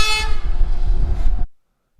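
A train horn blares loudly with a sustained tonal blast over rumbling rail noise, heard from the Katy Trail near Boonville, Missouri, then cuts off abruptly into silence.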